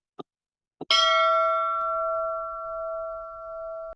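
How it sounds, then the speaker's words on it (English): Two soft taps come first, then a single bell strike rings out clearly and sustains with a long, slowly fading tone, opening a Kiwanis club meeting. "We're gonna ring that bell."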